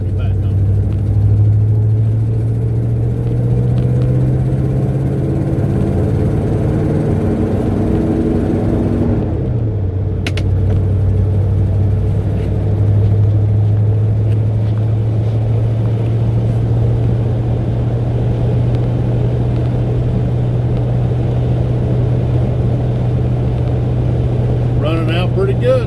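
A 1985 Ford F350 truck's engine drones low and steady while driving, heard from inside the cab with road rumble and wind noise; the tone dips briefly as the truck shifts, then settles back into its loud, continuous hum.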